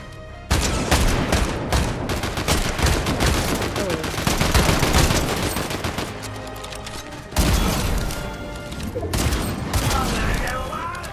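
Dense, continuous gunfire and impacts in Fortnite Chapter 5 Season 2 during a boss fight, loud rapid bursts from an SMG mixed with game effects, with a short break near the end before firing resumes.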